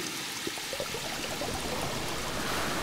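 Rising water in the video game Seasons After Fall, a continuous rushing, trickling flow like a stream, steady and fairly close with no voices.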